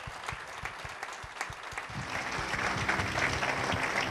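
A gala audience breaks into applause, starting with scattered individual claps and building into a steady, full crowd ovation heard from within the hall.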